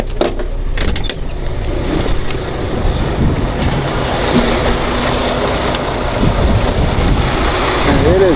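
Strong wind roars across the microphone in a constant rushing blast during a nearby wildfire, with brief knocks and clatter near the start.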